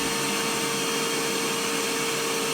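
A Bosch PFS 3000-2 paint sprayer motor runs with a steady, loud whine, around 87 to 91 decibels, that sounds much like a vacuum cleaner.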